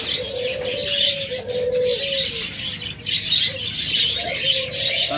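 Caged budgerigars, cockatiels and lovebirds at a bird sale chirp and tweet continuously, with several birds calling at once close by and no talking.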